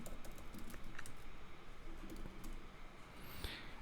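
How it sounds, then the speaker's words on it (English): Fingers tap out a short command on a computer keyboard, a quick run of light, close key clicks over a faint steady background hum. "So let me just type ifconfig."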